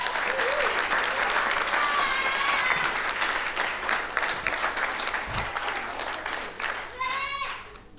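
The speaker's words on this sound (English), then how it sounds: "I would like a round of applause to that" Wedding guests applauding Mr. and Mrs. Williams during the speeches, a full crowd of clapping hands that slowly thins out, with voices and a child's squeals heard among it.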